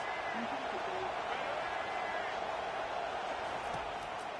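Football stadium crowd noise in a college football video game, a steady dense roar of fans trying to rattle the offense, heard faint and continuous under play-by-play commentary.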